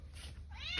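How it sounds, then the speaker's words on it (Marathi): A cat gives a short, drawn-out meow that rises at the end, close and fairly loud over a faint steady background hum. "मांजर नसते म्याव म्याव करते."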